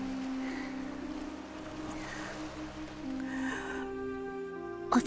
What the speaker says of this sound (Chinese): 我听到了水声，